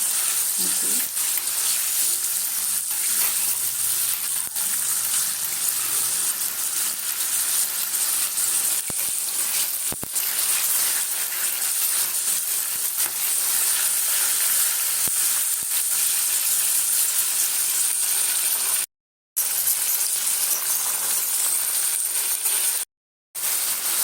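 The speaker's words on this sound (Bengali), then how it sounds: "কীভাবে ফাটছে দেখো চুলগুলো তেলের মধ্যে, নিজে থেকেই ফাটছে" Sun-dried flowers, used for a sour kul pickle, fry in hot oil with a loud, steady sizzle full of dense crackling and popping. The sound cuts out briefly twice near the end.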